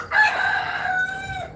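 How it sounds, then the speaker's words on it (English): A rooster crows among backyard chickens in a muddy, rain-soaked pen, one loud, drawn-out call that holds steady and then trails off, close by with no talking. "I got me some chickens, although it rained and it's muddy in there."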